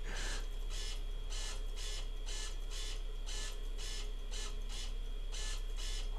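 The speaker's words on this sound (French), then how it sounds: "ma Dreamcast, elle est en mode... Elle est en train de lire le disque, elle s'acharne" A Sega Dreamcast disc drive reads its disc with a faint, rhythmic whirring buzz that repeats in regular pulses over a steady low hum, with no one speaking.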